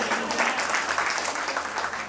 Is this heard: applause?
yes